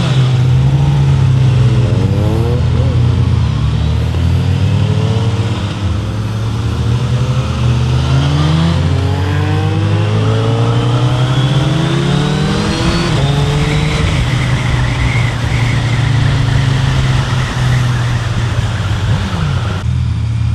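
A Suzuki Hayabusa motorcycle accelerating hard: a loud, close, continuous engine roar whose pitch climbs in repeated sweeps through the gears, with steady wind rush and no talking.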